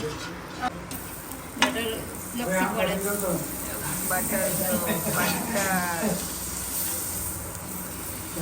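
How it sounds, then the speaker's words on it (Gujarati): Filled dabeli buns toast in butter on a hot pan, giving a steady close sizzle and hiss with occasional stirring and scraping, while a voice talks over the cooking throughout. "હવે આપણે એને બટરમાં શેકી લઈશું।"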